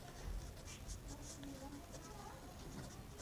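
Quiet writing strokes, likely pen on paper or board, scratch in short repeated bursts during a maths lesson, faint and steady against a soft background hiss.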